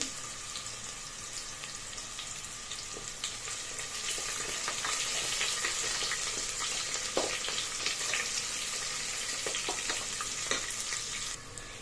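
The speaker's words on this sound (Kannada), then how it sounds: "ಉದ್ದುದ್ದಕ್ಕೆ ಈರುಳ್ಳಿ ಅದನ್ನ ಹಾಕೋತಾ ಇದ್ದೀನಿ ಹಾಕೊಂಡು ಫ್ರೈ ಮಾಡ್ಕೊಳ್ಳಿ" Sliced onions frying in a pan for mutton palav, a steady close sizzle that runs without pause, with faint stirring clicks and scrapes on top.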